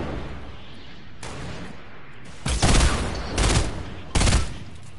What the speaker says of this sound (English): Oh, rockets.